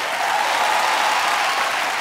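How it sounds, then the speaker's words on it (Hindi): Steady, dense audience clapping fills the space on a Hindi television quiz show, a continuous even wash of applause with no voices over it. "अरे जरा तालियां बजाइए यार"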